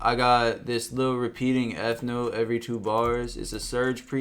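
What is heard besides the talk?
No everyday noises stand out.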